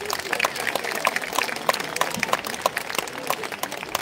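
A festival crowd at a Circassian cultural festival applauds Ali İhsan Varol: continuous clapping with sharp individual claps standing out, and some voices mixed in beneath.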